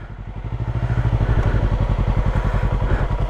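A motorcycle engine idles and revs up as a learner rider works the clutch, giving a close, loud, rapid chuffing pulse that builds in the first half second and then holds steady, with no voices over it.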